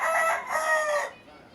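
An Indian Game rooster crows once, loud and close, a strained drawn-out call lasting about a second before fading to quiet.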